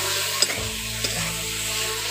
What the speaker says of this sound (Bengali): ওগুলো দিয়ে ভালো করে আবার মিশিয়ে নিচ্ছি